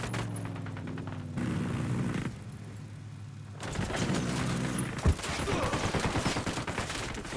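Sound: gunfire in the video game Ghost Recon Wildlands

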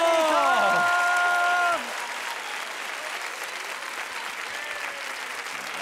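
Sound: audience applause

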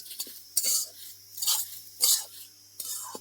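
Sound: washed sesame seeds being stirred and dry-roasted in a hot wok

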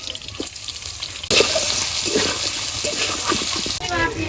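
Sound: chopped onion frying in oil

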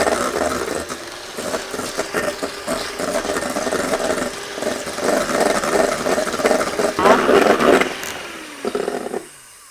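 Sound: electric whisk whipping egg whites with sugar to stiff peaks

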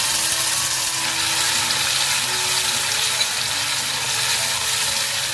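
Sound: tempering sizzling: garlic, curry leaves, Kashmiri chilli, tomato paste

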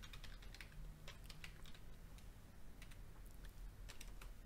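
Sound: typing on a computer keyboard

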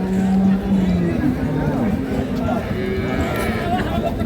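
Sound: cattle at Ambari cattle market

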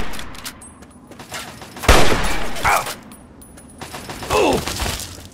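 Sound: gunfire from enemies in video game Fallout 3

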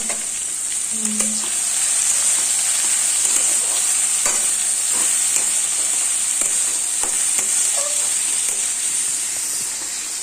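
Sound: carrots, potatoes and green beans frying with whole cumin

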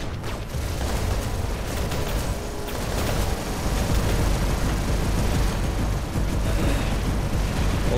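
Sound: space weapon shot in War Robots video game

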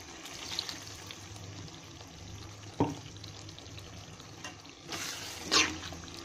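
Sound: water from the masala jar poured into the gravy

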